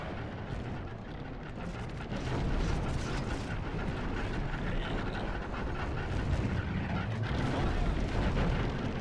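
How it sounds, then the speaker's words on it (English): Battle din from the Lord of the Rings Remastered strategy game, with catapults launching amid a dense, continuous roar of booms and rumbling that swells slightly louder partway through, with no clear separate shots. "The catapults, you can stop firing."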